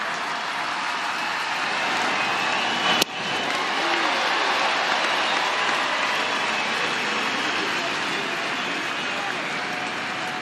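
A baseball stadium crowd at a Cleveland Guardians versus St. Louis Cardinals game rises in sustained applause and cheering for pitcher Ryan Helsley, a broad, steady roar with one sharp crack partway through.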